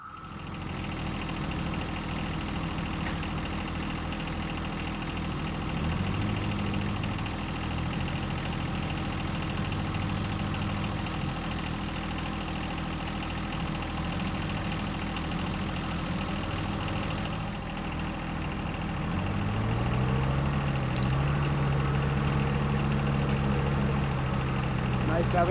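A bigger tractor's engine idling and working on a driveway in the woods, a steady low diesel rumble throughout that grows slightly louder near the end.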